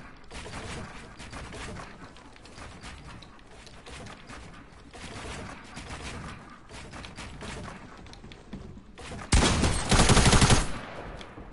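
Rapid video-game gunfire, steady bursts of automatic shots rattling through a match at moderate volume, ending in a louder, harsher blast of fire near the end.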